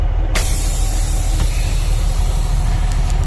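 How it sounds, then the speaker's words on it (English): An old 1996 International farm truck engine runs at a steady low idle, a constant deep rumble with airy hiss above and a few faint clicks, no voices. "Oh man, it's the old International truck."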